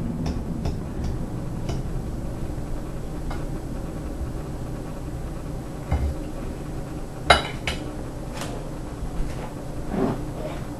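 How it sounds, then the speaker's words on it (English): A fork mixes salted potato for a stuffed potato dish, making soft scraping and ticking against a bowl. A few sharper clinks of metal on dish stand out, with faint background noise and no clear talk. "Now let's mix it with a fork."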